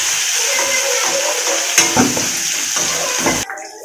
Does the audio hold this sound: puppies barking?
no